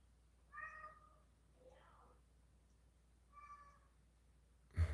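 A cat meows indoors, two short, faint calls separated by a pause, with a soft murmur between them, set against a quiet room.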